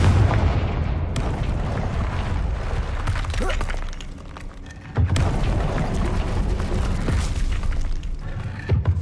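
Heavy booming blasts from the Confringo fire spell in Hogwarts Legacy on PS5, two big explosive onsets with rumbling, crackling debris that fills the mix loudly, and a voice speaking amid the blasts.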